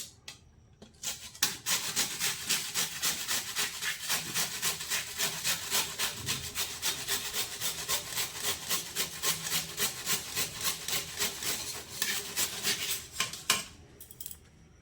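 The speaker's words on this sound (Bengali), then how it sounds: "ফুলকপির ফুলগুলো শুধু গ্রেট করছি" Cauliflower florets, washed and soaked in warm water, scraped steadily against a metal grater in a home kitchen, a close, rhythmic rasping stroke after stroke for most of the clip, with no voices.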